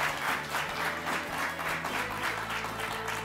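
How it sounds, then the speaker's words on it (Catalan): Steady, dense applause from a studio audience at a televised Catalan school quiz show, a continuous wash of many hands clapping together without a break, moderately loud throughout. "Aplaudim-los, sisplau."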